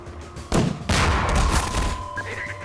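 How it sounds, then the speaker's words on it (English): Half-Life 2 submachine gun grenade fired at a wall and exploding in the Route Kanal chapter: a loud sudden burst with a second heavy blast and rumbling debris, followed by a fading tonal hum. "What I'm going to do is round the right corner and then launch the grenade at the wall."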